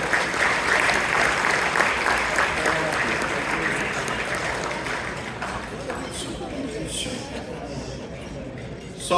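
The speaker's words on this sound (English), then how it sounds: "Can I hear another round of applause for Nabila Sayed?" An audience at an anniversary gathering of Chicago Islamic organizations claps in a sustained round of applause, steady and dense, slowly thinning toward the end with a murmur of voices underneath.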